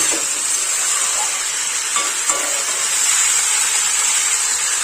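New potatoes and red amaranth stems sauté in a wok over medium heat, with a steady hiss of frying and a few faint stirring clicks nearby.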